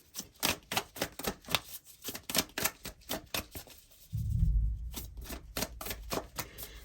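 Tarot cards snap and flick in a quick, uneven run of crisp slaps, close and fairly quiet, with a brief low rumble of handling midway before the rapid card clicks resume.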